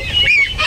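A gosling's honking, loud and close: one drawn-out, slightly wavering call with a higher-pitched note near the end and no other sound.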